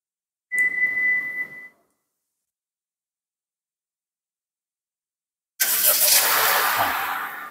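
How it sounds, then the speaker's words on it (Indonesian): A short electronic beep with a steady tone, then silence, followed by a 2025 Honda BR-V 1.5 engine remote-starting, turning over and settling into a loud running idle nearby. "Bisa ngidupin mesin langsung dari remote."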